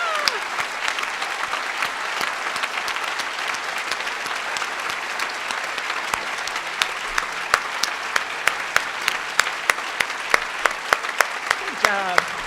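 Audience at a medal day ceremony applauds the MacDowell Fellows as they stand, a dense, sustained round of clapping with sharp individual claps standing out near the end, and some talking under it.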